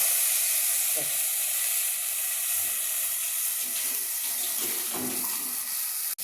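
Water poured into masala frying in a pan, made with ground paste from a grinding stone, gives a steady hiss and sizzle with faint splashing that stays loud and even throughout.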